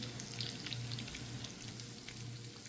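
Fish frying in a pan with tamarind water, a soft steady sizzle with scattered spitting pops, close but quiet and without voices.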